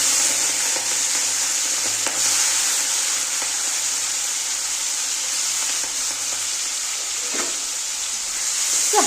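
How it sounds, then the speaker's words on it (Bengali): Prawns fry in hot oil with a constant close sizzle and crackle, punctuated by a few light stirring scrapes and a low background hum. "মাছগুলো ভেজে নিচ্ছি।"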